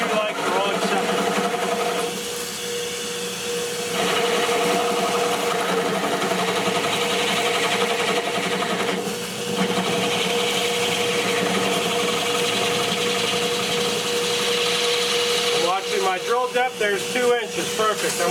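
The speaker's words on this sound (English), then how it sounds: "Turn off my drill press." A drill press whirs steadily at length while drilling finger holes in a bowling ball, a continuous motor hum with grinding as the bit cuts, ending in a few rough scraping bursts.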